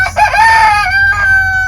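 Roosters and chickens in a coop with baby chicks, where a loud close rooster crow rings out over brief clucks, with no talking.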